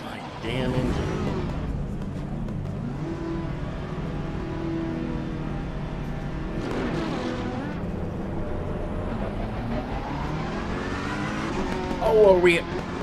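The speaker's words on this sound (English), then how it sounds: "Start my damn engine." A race car engine in the Assetto Corsa Competizione video game drones and revs through a warm-up lap run in double file. The pitch rises and falls in sweeps, with a brief squeal near the end, while someone talks over it.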